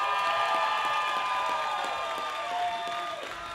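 A wrestling crowd claps and cheers at a pro wrestling TV show, a fairly faint, distant wash of applause with a tonal hum running through it that thins out toward the end.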